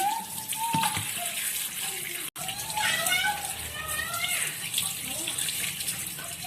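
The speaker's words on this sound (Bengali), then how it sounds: "মাছটা ধুয়ে নিচ্ছি" Running water pours steadily over a fish being washed in a kitchen, a continuous splashing hiss with a brief break partway, while children's voices chatter in the background.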